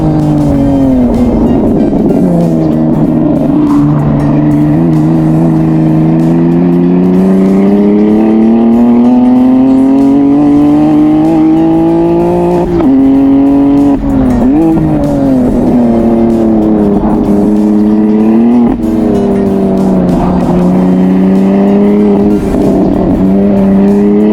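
A race car drives a relaxed warm-up lap on a track, its engine droning loud and steady with rising and falling pitch through shifts and corners, brief tire squeals, no talking.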